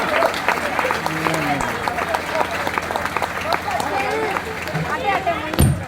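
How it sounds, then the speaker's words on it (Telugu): An audience claps through a children's Sita Rama Kalyanam performance at Kamareddy railway station during Navaratri, with dense, continuous applause under singing voices and crowd chatter. "చప్పట్లు"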